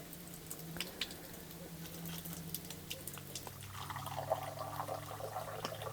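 Spring drinking water pours into a bottle, a quiet trickling gurgle with light patter, running continuously and close by against a calm outdoor mountain background in Greece's Pindus range.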